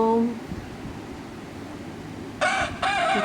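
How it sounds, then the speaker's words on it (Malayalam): A rooster crows at a home in Kerala: a brief call at the start, then a louder, bright crow near the end over quiet background noise. "കോഴി കൊക്കരിച്ചപ്പോൾ"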